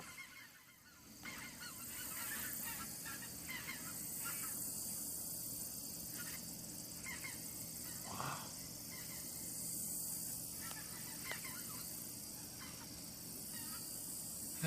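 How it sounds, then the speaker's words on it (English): A large flock of geese honking in flight, a dense chorus of repeated calls from many birds at middle distance, steady and continuous throughout with no speech. "That just might be the most geese I've ever seen in one formation."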